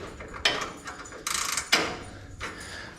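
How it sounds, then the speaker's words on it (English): A 3/4-inch ratchet wrench in a race shop gives short bursts of clicking, a few separate ratcheting strokes close by with quiet gaps between them. "A 3/4 ratchet wrench I got."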